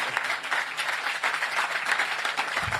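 A crowd at a community housing event welcomes Mayor Muriel Bowser with a round of applause, steady overlapping clapping at moderate distance for nearly three seconds.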